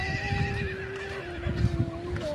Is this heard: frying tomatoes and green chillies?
no